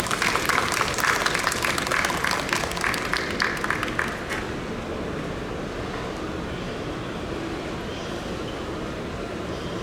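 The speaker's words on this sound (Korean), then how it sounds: "뜨거운 박수로 환영해 주시기 바랍니다." A lecture audience welcomes an architecture professor with applause that runs loud and dense for about four seconds, then cuts to a steady, faint room hiss with no voices.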